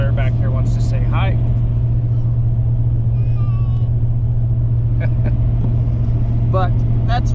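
A car driving on a snowy, icy road, its engine and tyre rumble a loud steady drone inside the cabin, with occasional voices and brief clicks and squeaks over it.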